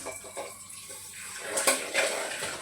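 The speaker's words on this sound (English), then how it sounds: "I have to cool it first by putting some cold water in it" Cold tap water runs and splashes into a pan of hot boiled eggs in a home kitchen, a soft trickle that swells into louder gushing bursts.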